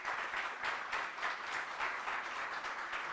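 An audience cheers and applauds steadily throughout as a guest is welcomed onto the stage at a management institute event in Mumbai, a dense continuous wash of clapping with no speech over it.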